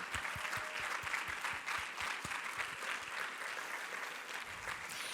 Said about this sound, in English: let's give them a round of applause for all they've done